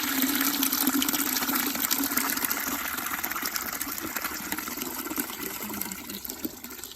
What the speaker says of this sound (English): I'm still filling water.